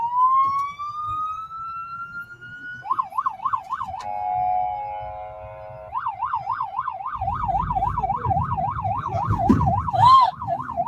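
An ambulance siren in a West Bank street sweeps up, then wails in fast repeating yelp cycles and a brief steady two-tone hold, loud and near, with crowd noise and voices rising beneath it.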